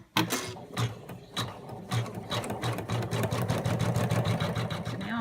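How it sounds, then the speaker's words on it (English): Embroidery machine stitching lettering onto a bandana, a steady rapid mechanical chatter with a low humming drive that builds after a few sharp starting clacks, close and continuous. "I've stitched out my lettering for my bandana"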